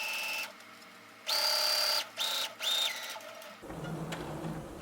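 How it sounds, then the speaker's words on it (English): A sewing machine stitches fabric for a fold-over clutch bag, running in three short whirring bursts with brief pauses between them, then giving way to a lower, steadier hum. "I'm going to continue sewing"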